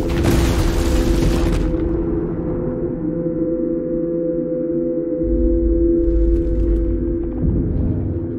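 A loud explosion in the horror game Scorn bursts out with a broad blast that quickly gives way to a sustained low rumble and droning hum, with no talking.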